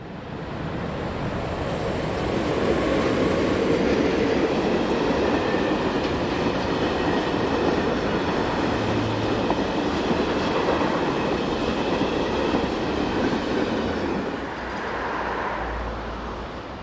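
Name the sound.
Swiss Re 6/6 (Class 620) electric locomotive hauling a train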